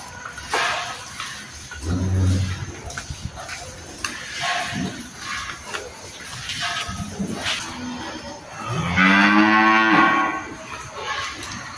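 Friesian dairy cows and heifers on a farm moo several times, with a long, loud, close low bellow near the end over faint background noise.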